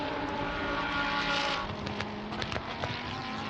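Loris Spinelli's race car engine screaming at full push, a loud sustained high-revving roar that drops in pitch as it shifts or passes, with a few sharp crackles afterward and no talking.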